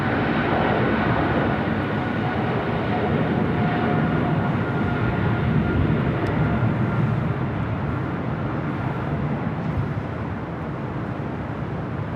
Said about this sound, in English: we got that Japan Airlines 777-300ER, flight 15 heading back to Tokyo Haneda.